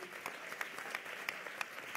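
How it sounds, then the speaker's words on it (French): Faint, steady applause from an awards-ceremony audience, a soft wash of many hands with a few distinct claps standing out. "Mais qu'on peut applaudir parce que c'est beau."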